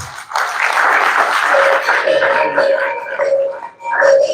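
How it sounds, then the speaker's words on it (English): Members at a club election and delegates congress give sustained applause for outgoing executives, a dense wash of clapping with a few whistles or cheering voices before it briefly dips and resumes. "I think it deserves a big round of applause."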